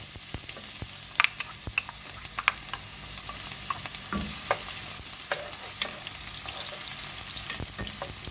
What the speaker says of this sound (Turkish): Soğanımız kavrulsun.